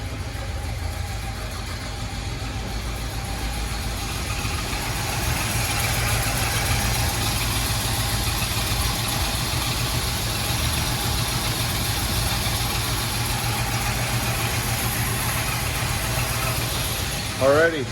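A 1981 Oldsmobile Delta 88 V8 idles steadily and evenly at close range, a low continuous rumble with a faint mechanical whir and a brief voice at the very end.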